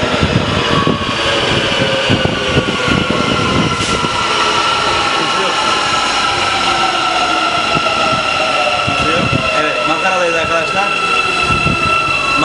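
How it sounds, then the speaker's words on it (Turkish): A metro train pulls into a station with a loud, continuous rumble and rising, falling metallic wheel whine, close by, while people talk over it. "Tren geliyor."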